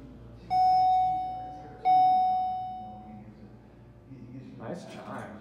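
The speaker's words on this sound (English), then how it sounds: "Nice chime." Two clear electronic chime tones, a second apart, sound as an MEI hydraulic elevator arrives at the Minnesota Museum of American Art in St. Paul, followed by a voice speaking briefly.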